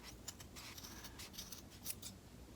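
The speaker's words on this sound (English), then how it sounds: "you're gonna take your scissors and put it through little sections at a time and cut that" Scissors snipping through looped yarn of a pom pom, a quick irregular run of crisp close cuts over about two and a half seconds, quiet and with no talking.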